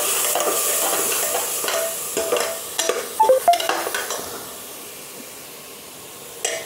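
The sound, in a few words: masala with yogurt being stir-fried in a pan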